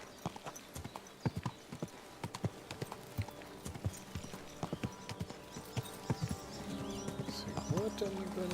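A horse's hooves clip-clop steadily in the video game Kingdom Come: Deliverance II, a fairly quiet, regular rhythm of hoofbeats that grows busier toward the end, where a brief whinny and some voices can be heard.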